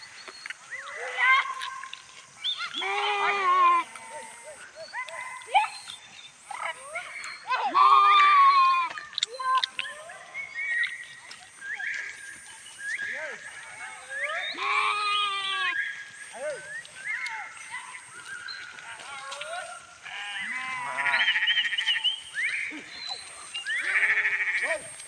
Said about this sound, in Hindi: ये आ गई हमारी बकरियां पीछे से